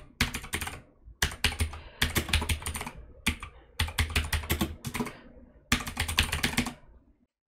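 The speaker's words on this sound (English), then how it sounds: "So I'll type in the company name." Typing on a computer keyboard while entering a company name into dictation software, in several rapid bursts of key clicks separated by short pauses, close and fairly loud with no talking.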